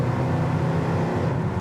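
A 1971 Ford Torino GT pulls hard on kickdown, its engine giving a steady, loud low roar heard from inside the cabin.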